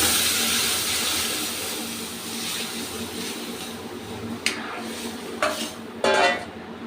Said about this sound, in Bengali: এবার সেদ্ধ ডালটাকে ফোড়নে দিয়ে দিচ্ছি।